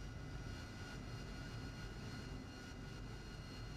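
An AV-8B Harrier jet engine idles in the DCS World flight simulator, a faint, steady whine and rumble holding evenly throughout with no voices.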